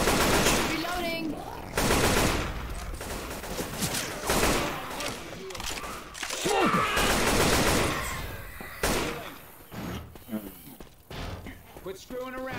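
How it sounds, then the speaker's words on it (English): Left 4 Dead 2 gunfire: bursts of rapid automatic shots and single blasts crackling close and loud, broken by short pauses, with in-game voices speaking between volleys. "Why the hell you guys keep shooting me?"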